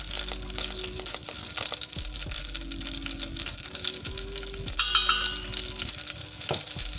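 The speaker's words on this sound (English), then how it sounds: "once the butter is melted, we're gonna add some turmeric and some cumin" Turmeric and cumin sizzle in melted unsalted butter, a steady close frying crackle with a louder burst of spitting midway as a spoon scrapes and stirs the pan.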